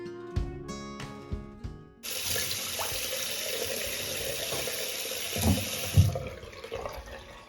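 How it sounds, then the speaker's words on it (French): Tap water runs steadily into a sink while clip-in hair extensions are rinsed, a continuous hiss starting after a few light clinks, with occasional soft splashes and knocks. "je prends vraiment le temps de vraiment bien rincer"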